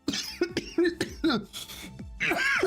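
Several harsh coughs in quick succession, close and fairly loud, with a throat-clearing sound and a short voiced strain at the end.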